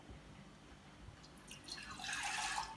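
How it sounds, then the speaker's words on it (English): Water pours into a pot that will be boiled for masala chai. A quiet trickle swells into a louder, steady splashing over the last second, with no talking. "So I'm giving some water to boil first."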